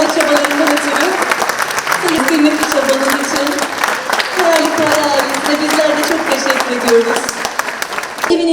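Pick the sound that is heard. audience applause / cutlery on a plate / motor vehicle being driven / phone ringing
audience applause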